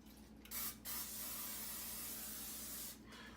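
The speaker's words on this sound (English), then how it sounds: "I'm going to spray it with this coconut oil." Two short hissing bursts from an aerosol can of coconut oil sprayed onto a pan, followed by a longer steady spray, close and clear in a quiet room.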